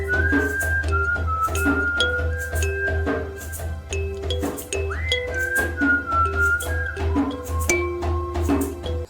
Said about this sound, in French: Même le sifflement à la fin, c'est toi qui le fais?